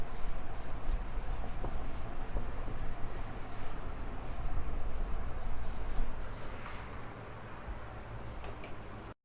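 Chalk or marker writing the next question on a teaching board, a steady close scratching and rubbing that runs for several seconds and then eases off near the end, with no talking.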